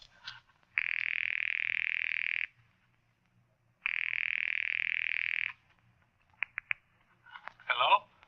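Telephone signal tones in an old-time radio mystery drama: two long steady buzzing tones about 1.7 seconds each, followed by a few short clicks and a brief crackle, heard close and alone without talk.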